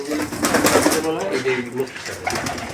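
Pigeons at a pigeon market coo in soft, throaty, rolling calls under close conversation between men, with the bird sounds and voices overlapping throughout the short stretch.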